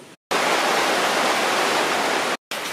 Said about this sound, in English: We're just on our way out and it starts to pour down rain.